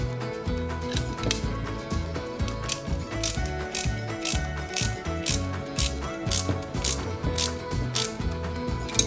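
A screwdriver turns two H-type screws into the rear of a 1/24 scale FDNY Tower Ladder 9 fire truck model, giving a close, steady run of rapid ratcheting clicks with no voices.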